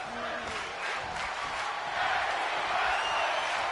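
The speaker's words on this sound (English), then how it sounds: "I don't know if you could hear them cheering" Wrestling fans at a Wednesday Night Blaze show cheer and shout together in a steady, roaring crowd wash that swells louder partway through, with no single voice standing out.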